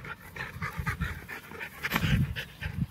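A playful Labrador pants quickly and rhythmically nearby, its short breathy puffs coming in quick bursts with brief pauses between them.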